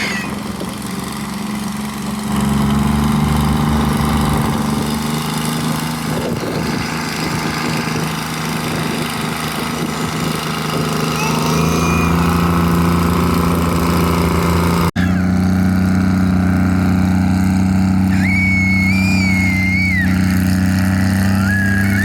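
Tractor engines at a tractor pull rumble and idle loudly and continuously, with a steady low drone and occasional higher mechanical whines, no talking.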